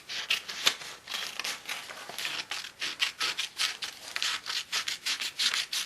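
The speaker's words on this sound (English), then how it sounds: "After you get finished taping it together, you just cut your pattern piece out." Scissors slicing through a paper tank-top pattern piece, a close, quick run of crisp rasping snips in an uneven rhythm, with no talking.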